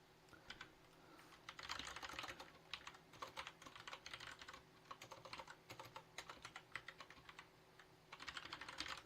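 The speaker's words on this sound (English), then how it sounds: "Since I'm going to be typing that a lot" Rapid typing on a computer keyboard during a coding session, with irregular bursts of close, crisp key clicks and short pauses, no voices.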